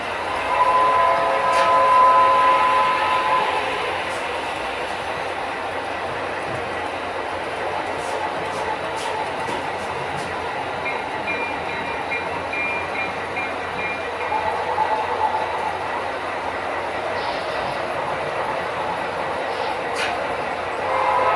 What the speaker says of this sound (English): Alright, I think we've got the 4 main trains running.